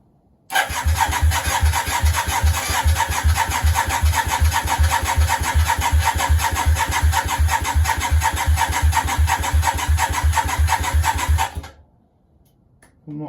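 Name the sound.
Yamaha Virago 535 motorcycle engine cranking and starting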